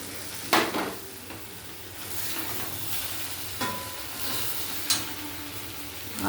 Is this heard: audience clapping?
no